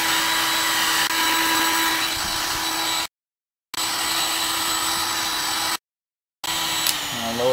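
A heat gun blows hot air onto an Xbox 360 heat sink with a loud, continuous roaring hiss and a faint tonal hum, cutting out twice for brief silences before resuming.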